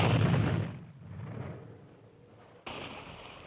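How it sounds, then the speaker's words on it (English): A mortar round explodes in an action film scene: a loud, close, broad blast that rumbles and fades over about two seconds, followed by a second sharp burst of noise. "Our last mortar hit the wire."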